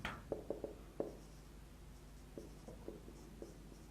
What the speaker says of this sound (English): Let me write here second part.